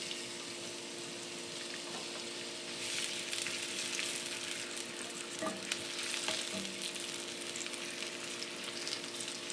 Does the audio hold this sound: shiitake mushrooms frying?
yes